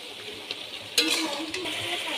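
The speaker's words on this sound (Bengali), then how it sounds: "এবার দিয়ে দেবো আদা আর রসুন কুড়াটা, ভালো করে কষিয়ে নেব।" Meat sizzles softly in a pan as ginger-garlic paste is stirred in, with a few scraping strokes of a spoon against the pan over a low, steady fry.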